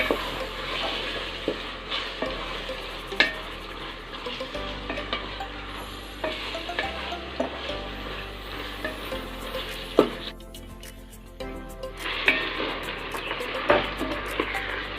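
Prawns coated in masala fry in a pan for biryani, a steady sizzle with scattered pops and the scrape of a stirring spoon, the hiss briefly dropping away near the end before returning.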